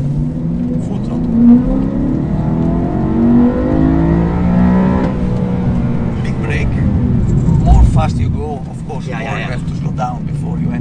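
A car engine revs hard at full throttle, its loud, rising whine climbing in pitch before easing off, while people talk over and after it.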